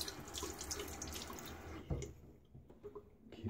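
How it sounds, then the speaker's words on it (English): Water from a tap runs steadily over a shaving brush handle being rinsed at a sink, then drops off into scattered drips and small splashes; close and fairly loud, with no talking. "But we'll just kind of rinse off the handle."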